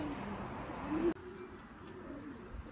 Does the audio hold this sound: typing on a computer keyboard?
no